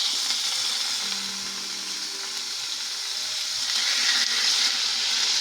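Ingredients sizzle and fry steadily in hot oil for a sticky peanut stir fry, a continuous close crackling hiss with no talk.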